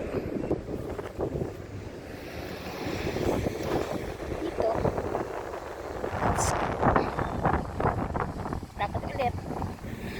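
Gusty wind buffets the microphone outdoors on a mild, breezy day in Yokohama, a steady rumbling wash with stronger surges, under intermittent talking.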